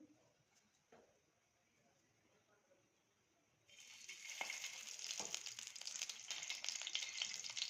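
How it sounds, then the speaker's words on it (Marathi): Chopped onion frying in oil in a pan for a bitter gourd curry, starting quiet and then breaking into a steady bright sizzle partway through, with occasional soft clatter and no speech. "आज कारल्याची मी रशाची भाजी बनवणार आहे त्याच्यासाठी मी थोडासा कांदा जो आहे ते तळून घेणार आहे"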